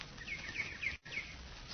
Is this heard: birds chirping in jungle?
yes